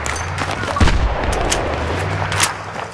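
Gunfire rings out in a combat video game, snipers firing amid a dense wash of battle noise; a sharp loud report stands out near the start, with further shots and rumble continuing steadily underneath.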